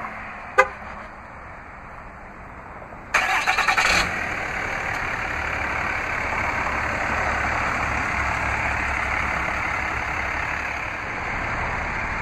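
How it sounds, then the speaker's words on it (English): A short click, then the engine of a 2012 RAM 2500 pickup cranks via remote start and turns over, settling into a steady idle that runs on without pause. "double press the remote start button on the key fob"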